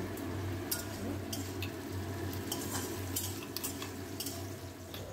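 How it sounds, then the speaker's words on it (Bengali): A spoon stirs fried spice mix into tamarind pickle with repeated close metallic scrapes and clinks against the pot over a low steady hum. "মশলাটা দেওয়ার পর ভালোভাবে আমি মিশিয়ে নেব।"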